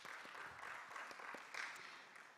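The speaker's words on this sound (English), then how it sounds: "can we then clap for those that are here today?" Conference audience applauding in a hall, a dense patter of many hands clapping steadily for a couple of seconds and fading out at the end, with no one speaking over it.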